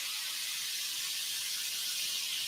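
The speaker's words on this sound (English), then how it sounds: "All right, so this is medium-high heat. It's sizzling away." A steady, close hiss of sauce sizzling in a pan over medium-high heat, constant and even, with no talking.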